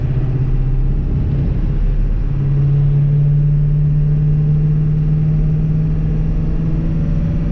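A Ford Excursion with a stock-turbo 7.3 diesel engine drones loudly and steadily as it accelerates downhill under boost, with a sustained low rumble and a rising turbo tone, heard from inside the cab.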